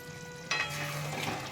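Paneer with slit green chillies sautés in a pan, a quiet sizzle jumping to a louder hiss as the pieces are stirred and fried.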